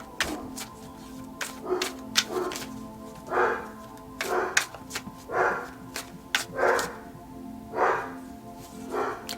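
A household dog barks repeatedly at uneven intervals from another room, the sharp, mid-loud yaps spread across a steady indoor hum, with no one talking.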